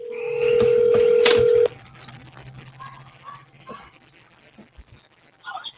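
A telephone number dialed as a loud sustained tone followed by a quick burst of DTMF key beeps, then faint line noise and scattered soft background sounds.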